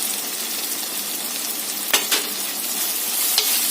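Onions and shallots sizzle steadily in a hot pan for egg roast, with a couple of sharp spatula scrapes midway and another near the end; close and alone, no voices.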